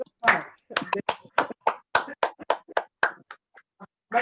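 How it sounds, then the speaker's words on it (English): A few people clap in a small online Toastmasters meeting, about a dozen sharp, uneven claps over four seconds, close and fairly loud, with no talking. "Give her a round of applause, please, for winning the table topics."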